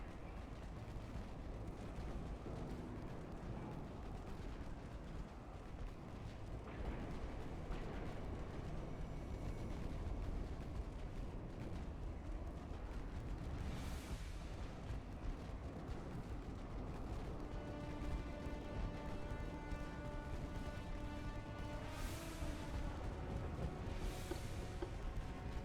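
Naval gunfire in the warship game Ultimate Admiral Dreadnoughts, a steady dense rumble of cannon booms and distant blasts running throughout at moderate level, with several sharper bursts later on.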